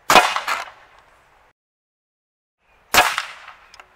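Two crossbow shots, each a sharp loud snap with a short metallic ring as the bolt strikes a 1.6 mm aluminium clipboard, spaced about three seconds apart with quiet in between.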